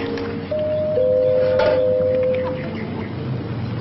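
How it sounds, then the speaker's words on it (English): A doorbell in a vintage sitcom home rings with a sustained two-tone chime lasting about two seconds, moderately loud over a hissy, dated soundtrack. "Ring the bell."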